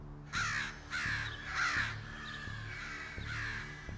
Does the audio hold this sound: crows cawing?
yes